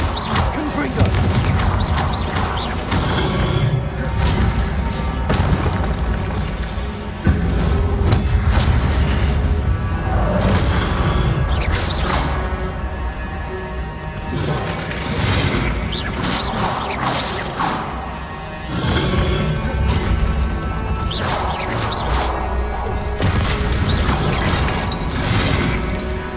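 Repeated Confringo blasting-spell explosions in the Hogwarts Legacy video game, crashing booms and whooshes recurring at irregular intervals over a dense, loud game soundscape.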